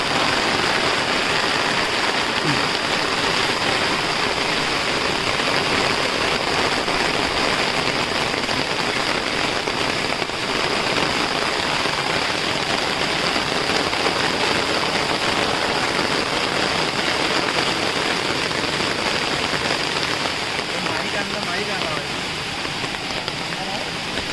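Heavy monsoon rain falls in Konkan as a loud, constant hiss of drops on surfaces, steady and close for the whole stretch without pause.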